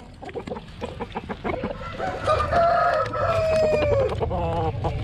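Roosters crowing and hens clucking on a farm in Tamil Nadu keeping several varieties of chickens, a busy overlapping chorus with one long, loud crow standing out near the middle.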